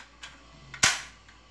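Toy guns fired outdoors: a couple of faint clicks followed by one sharp, louder snap that quickly fades.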